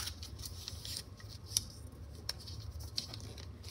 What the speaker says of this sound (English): And then fold it in half.